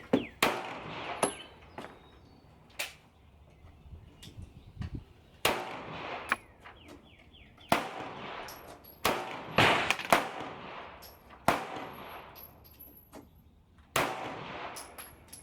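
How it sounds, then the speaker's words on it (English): A Glock 17 Gen 5 pistol firing Sig 124-grain JHP Elite rounds at a range lets off loud, sharp single shots, spaced irregularly by pauses of one to two seconds, with no talk. "first shots, G17 Gen 5. Let's see how it shoots."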